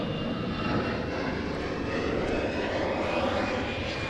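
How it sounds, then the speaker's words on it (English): An EasyJet jet airliner flies over an airport airside area, a steady loud engine roar that fills the whole stretch without pause and with no one talking. "we'll let the EasyJet go over"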